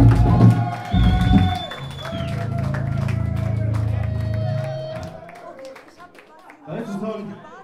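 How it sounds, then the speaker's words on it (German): Concert crowd at a live show in Arnstadt cheers and claps after a song, a sustained roar that fades out, with someone talking to them before and after. "Macht mal einen fetten Applaus!"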